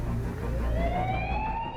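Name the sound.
fire truck siren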